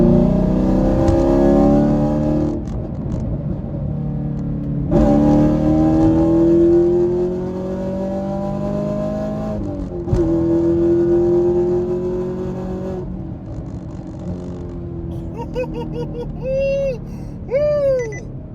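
A heads-and-cam Chevrolet Camaro pulls hard in third gear on a highway, its engine note climbing in long revving sweeps with gear-change dips, loud and close from inside the car, with tire and wind roar underneath.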